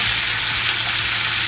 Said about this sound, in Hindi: और इसको थोड़ी देर हम फ्राई होने देंगे।